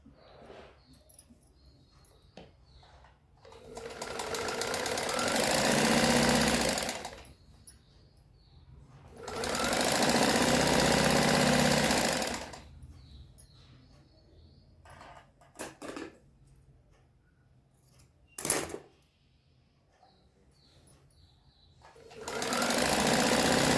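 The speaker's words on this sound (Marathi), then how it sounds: "अशा दोघी पट्ट्या 1/2 इंचावर शिवून घ्यायच्या" A home sewing machine stitching strips of kurti fabric at half an inch, running in three loud sustained bursts separated by quiet pauses with small handling clicks and a sharp knock.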